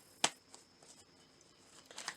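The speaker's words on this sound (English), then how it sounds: "Let's try just shuffling." Tarot cards are shuffled quietly, with one sharp riffle snap near the start, faint rustles after, and a couple more brief flicks at the end, close and alone.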